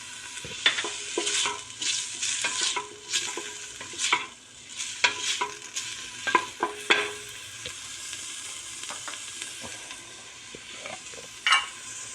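Onions and garlic sizzle in hot olive oil in a pan for a soup, a steady close frying hiss broken by repeated sharp scrapes and clatters of stirring.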